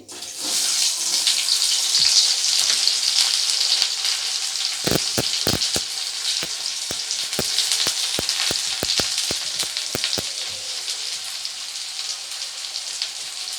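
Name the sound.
frying onion, garlic and chili for dried fish curry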